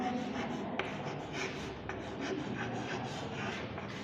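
Steady scratchy rubbing of pen or marker writing by hand on a surface, close and continuous with a few brief accents, with no talk over it.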